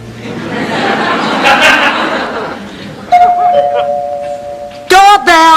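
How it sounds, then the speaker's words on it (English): A two-tone doorbell chime sounds midway and again near the end of a TV sitcom scene, clear and close, with people talking and chuckling around it. "Doorbell."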